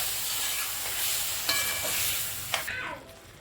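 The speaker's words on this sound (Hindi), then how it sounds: "और अभी हम इसे अच्छे से हाई फ्लेम पे ही भूनेंगे।" Potatoes with coriander roasting in a pan on high flame give a steady loud sizzle, broken by two sharp scraping stirs before the hiss fades near the end.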